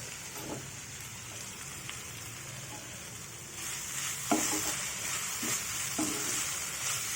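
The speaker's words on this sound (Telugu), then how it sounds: "ఇదంతా వేగిన తర్వాత కొత్తిమీర వేసుకున్నాం కొంచెం సేపు వేగబెట్టాం" Coriander fries in a pan in the tempering for a potato raita, giving a gentle, close sizzle broken by a few sharp scrapes and clinks from stirring.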